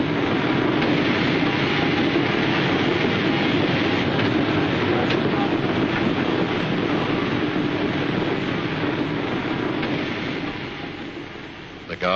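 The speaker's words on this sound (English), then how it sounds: "just in time, here's their train" A steam train pulls into a station platform in 1949 England, a steady broad rumble that holds loud and close for most of the span before easing off near the end, with a voice talking over it.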